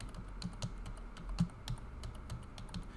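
Someone typing a command on a computer keyboard at a desk, a quick run of light, close key clicks in an uneven rhythm, with no talking.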